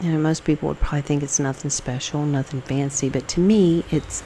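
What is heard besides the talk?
No everyday noise stands out behind the speech.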